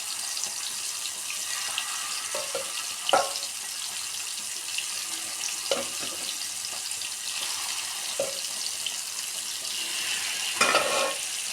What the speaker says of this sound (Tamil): நான் தோசைக்கல்லில் தான் மீன் பொரிப்பேன்